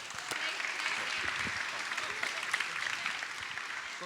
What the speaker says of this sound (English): how's about a round of applause for all of our representatives?